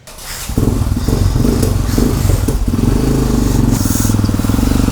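An imported Yamaha Tenere XT 660Z motorcycle, left standing for many days, cranks and catches, then its single-cylinder engine settles into a steady, close, loud idle with slight revving.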